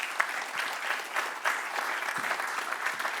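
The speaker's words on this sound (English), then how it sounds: "So let's all give a round of applause to our panelists." Steady applause from a conference audience for a cyberdefence panel, a dense continuous patter of many hands clapping at moderate volume throughout with no voices over it.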